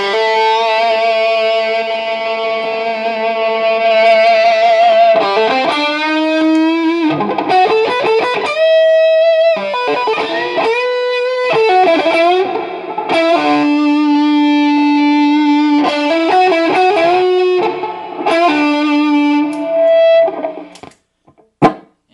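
Electric guitar played through a Bogner Alchemist amp head with the reverb turned up, sustained chords and melodic notes ringing out with a long wash of reverb tails, loud and close, alone without talk.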